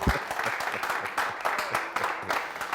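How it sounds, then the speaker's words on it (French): An audience applauds at a televised event, a continuous burst of clapping with a voice faintly heard alongside. "Vous ne faites pas des applaudissements pour ce monsieur."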